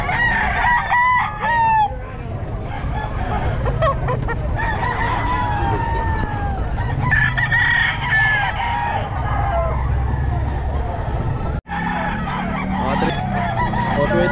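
Roosters crow repeatedly at a busy pet market in Bocaue, several calls overlapping with clucking over a steady crowd hum, with some distant talk mixed in.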